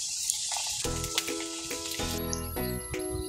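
Homemade taro fries bubble in hot oil with a soft, steady frying sizzle, joined by faint clinks of a utensil and some tonal background noise.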